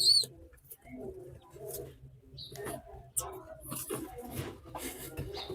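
Young pigeons (squabs) and adult pigeons in a loft, cooing and calling close by with a brief chirp at the start, while people talk intermittently over them.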